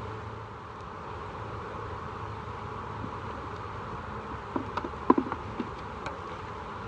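Honey bees buzz steadily around an opened long hive with a wedge-shaped comb gap above the brood nest, a constant low drone with a few louder close passes near the end.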